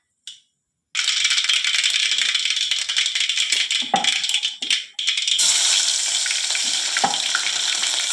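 Mustard seeds hit hot oil for a Kannada village-style peanut curry tempering, bursting into a loud, steady close-up sizzle and crackle that runs for several seconds after a brief quiet start.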